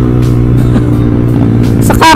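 Loud, close engine of a motorcycle whose clutch cable has snapped, holding a steady low drone with rough uneven revving throughout and a sharper rise near the end.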